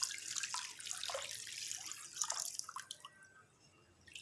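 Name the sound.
water being poured into mango drink mixture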